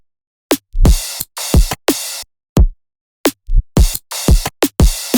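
A punchy electronic drum pattern from a remix breakdown, with sharp kicks, snappy hits and tight gaps between them in a choppy, stuttering rhythm, loud and dry, with no voice.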